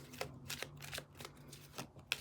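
A deck of cards is shuffled close up and quietly, several quick rippling riffles and soft flicks in an uneven rhythm, with no talking.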